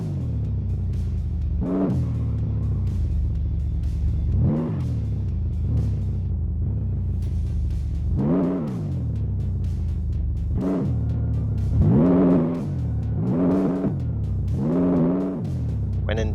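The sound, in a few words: car engine revving at full throttle in video game My Garage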